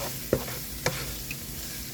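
Seasoning is stirred into food sizzling in a pan for garbage bread, a steady frying hiss broken by two or three sharp scraping strokes of the utensil, close up with no talking.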